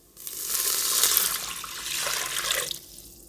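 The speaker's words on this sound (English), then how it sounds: "throw in 3 cups of water." Water pours in a steady, splashy stream into a cooking pot with browned ingredients for a vegan garlic pasta, close and fairly loud, lasting about two and a half seconds before cutting off.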